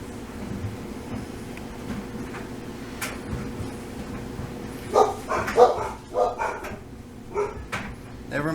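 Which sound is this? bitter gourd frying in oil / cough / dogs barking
dogs barking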